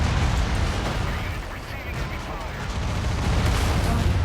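Mech-mounted cannon in MechWarrior 5 firing again and again, a dense, loud wash of heavy booming blasts rolling continuously through the whole stretch with low rumble, while a voice talks faintly beneath.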